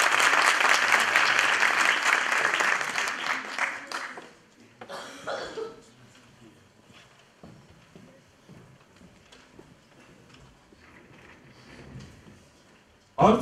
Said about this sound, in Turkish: aydınlatan Sayın Doçent Doktor Celil Bozkurt hocamızı alkışlarımızla sahneye davet